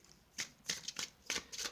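Tarot cards being shuffled by hand in a series of quick, crisp riffling bursts, about five of them in under two seconds, close and fairly quiet, with no voices.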